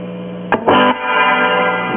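An electric guitar plays through a light spring reverb in a 1940 Sparton 770 radio converted into an amp. A couple of quick plucked notes ring out and decay with a washy reverb tail over a faint mains hum.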